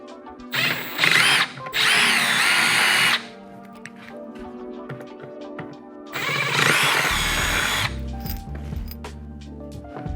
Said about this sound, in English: Then we're gonna pop in our 7/32 bit. We're gonna enlarge these holes.